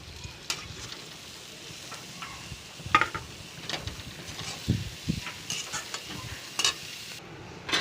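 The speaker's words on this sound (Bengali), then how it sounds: "এবার শাকটা দিয়ে দেবো।" Leafy greens go into a hot pan with fried onion and green chili, giving a steady sizzle with repeated scraping stir strokes and utensil clatter throughout, close and moderately loud, with no talking.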